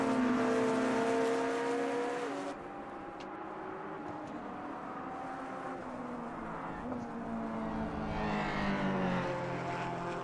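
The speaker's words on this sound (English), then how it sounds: "Oh, that Corvette GTE car. Oh, it does sound really awesome." Corvette GTE race car engine at Spa Francorchamps during a 2.5-hour endurance race, a loud droning roar with shifting pitch as cars pass, heard at a distance with a commentator talking over it.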